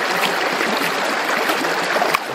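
Steady rush of water flushing gravel and material through a Banjo Pan sluice outdoors, a continuous close wash with no break in the flow.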